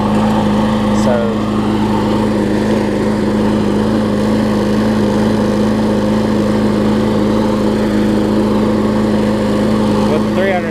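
A John Deere JS63C walk-behind lawn mower engine runs steadily at close range, a loud constant drone with a strong hum that stays even throughout.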